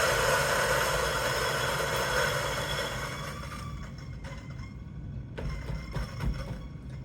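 A Turin DF83V coffee grinder grinds beans, making a steady, moderately loud whirring motor sound that gradually softens, with a few sharp crackles from the beans near the end.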